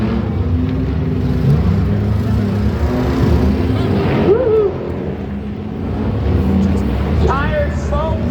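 Trucks racing and crashing in a figure-8 derby at a Halloween pumpkin smash event, loud engines revving and roaring continuously beneath an announcer's commentary.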